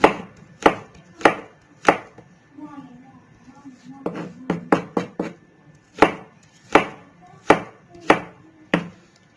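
Knife chops vegetables for a Russian salad on a board in crisp, close, evenly spaced strikes, with a short quicker flurry in the middle and a quiet voice talking in between.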